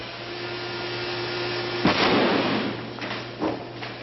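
A sudden explosive blast as a charge blows up a miniature model, bursting over a low steady hum, followed by a rumbling tail and a second smaller pop a moment later.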